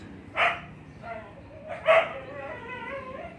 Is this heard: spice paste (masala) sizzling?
no